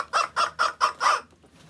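Five evenly spaced, chicken-like clucks ring out close and clear in quick succession, then stop, with a short quiet tail after.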